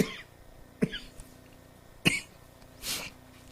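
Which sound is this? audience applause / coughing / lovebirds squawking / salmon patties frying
coughing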